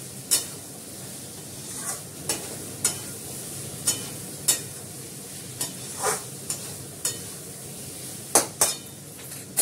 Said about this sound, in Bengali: কষছে ভালো করে।